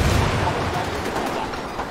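Gunfire in Ghost Recon Wildlands, a loud continuous wash of shots and explosive combat noise filling the whole short stretch, with no clear individual gaps.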